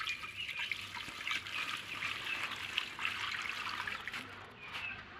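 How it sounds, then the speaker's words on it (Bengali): Water is poured into a mix of goat and cattle feed with straw and molasses, a steady close trickle running for several seconds. "এবার দিয়ে দিব পানি।"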